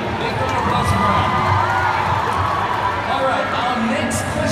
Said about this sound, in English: big round of applause for Brian, please, everybody